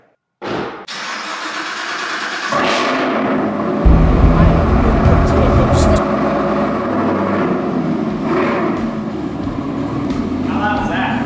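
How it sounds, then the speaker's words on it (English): A Chevrolet Camaro ZL1 engine cranks and fires up, then settles into a loud, steady exhaust rumble heard up close. "So just for fun, let's see how loud the ZL1 is."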